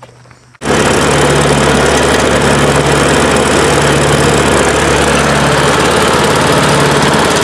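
A worn-out used lawn mower's engine kicks on after a brief quiet start and then runs loud and steady at close range, a constant droning hum with no talking.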